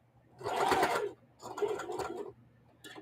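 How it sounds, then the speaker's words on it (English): A domestic sewing machine stitches a mitered quilt corner up to a pin in two bursts of rapid, whirring needle clatter, close and moderately loud, separated by a short pause and followed by a brief final burst. "So I'm going to sew down to the pin"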